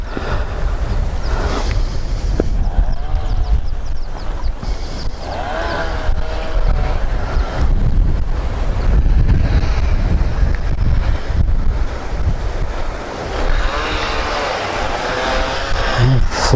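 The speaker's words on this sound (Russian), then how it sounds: "Сильный ветер дует у нас второй день." Strong wind roars continuously across the microphone by the Segezha River in Karelia, buffeting loudly, with faint bleating and sloshing water in the background.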